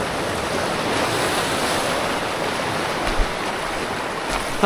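A river rushes in a continuous broad wash of water noise at a fishing spot, steady and fairly close, with light wind buffeting and no speech.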